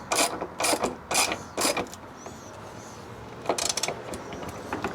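Ratchet wrench clicking on a Jeep Wrangler hood latch, short bursts of rapid close-up ratcheting separated by brief pauses, with no talking.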